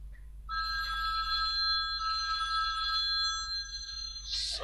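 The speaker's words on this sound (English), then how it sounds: "Sorry about that, the phone." A telephone rings steadily and fairly loudly for several seconds, a continuous electronic trill over a low background hum, with no talk.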